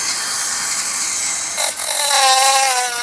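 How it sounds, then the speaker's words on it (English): A small cutting wheel grinds through the metal band straps on a drive shaft CV boot, giving a loud, steady, close abrasive whine that dips briefly as the cut breaks through, then resumes with a ringing tone. "I just cut them with a little wheel like this."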